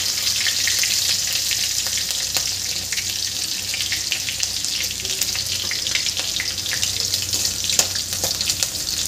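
Green chillies and curry leaves sauté in a pan after cumin for sabudana khichdi, a loud, continuous close-up sizzle with frequent small crackles and occasional stirring clicks.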